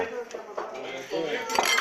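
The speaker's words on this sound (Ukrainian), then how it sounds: "Так, в мене тарілка впала. Ні, ложка." A spoon drops and clatters against dishes at the close of a festive meal, a short bright metallic clink heard close by amid voices and table noise.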